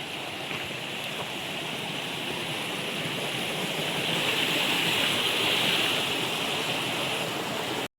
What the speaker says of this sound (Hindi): ये छोटा झरना है।